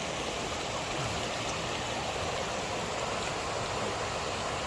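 Steady, even rush of a clear river flowing at a crowded bathing spot, a constant broadband wash of water heard from close by with no voices over it.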